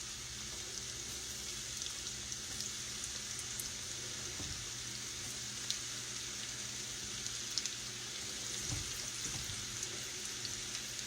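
Steady, busy sizzling of cubed eggplant frying in hot oil, a constant crackle with a few sharper pops, fairly quiet and close.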